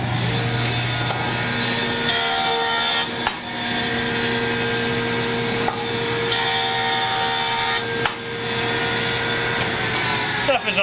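A hand plane jointing the edge of a soft mahogany board at the workbench, with several long rasping strokes separated by short pauses and a steady low hum underneath.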